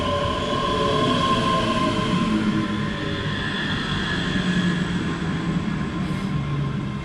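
Passenger train at Croy station, a double four-car diesel unit on Route 5, rumbles steadily and close by with a sustained rolling drone and faint rail tones, no talking.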